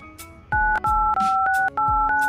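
Mobile phone keypad tones sound as a USSD code is entered, a quick run of clear two-tone beeps with short gaps between them, close and distinct, with no talk over them.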